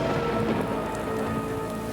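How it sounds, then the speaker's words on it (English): Heavy rain pours down steadily during a powerful storm, a dense, continuous hiss of drops striking surfaces with no pauses. "When the most powerful storm in a century strikes, 11 inches, or 3 months' worth of rain, falls in just 36 hours"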